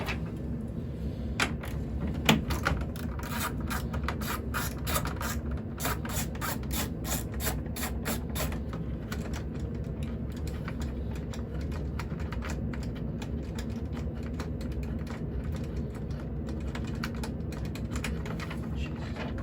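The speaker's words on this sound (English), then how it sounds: "I'm using this ratchet, it's just easier." A hand ratchet clicks in quick rhythmic runs while tightening gauge cluster screws on a 1995–1999 Dodge Neon, the close clicking dense early and then settling into quieter mechanical fiddling.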